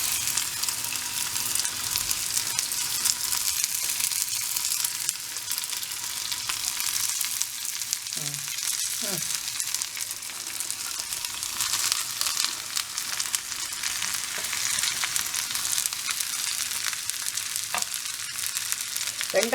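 Okra and onion sautéing with curry leaves in a pan, a dense continuous sizzle and crackle holding steady and fairly loud throughout, with a few brief stirring clinks.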